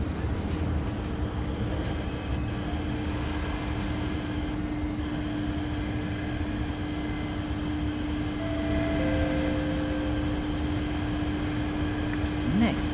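Train in the Roblox video game, a steady mechanical hum with a constant drone and faint rising tones near the end, continuous and moderately loud with no voices.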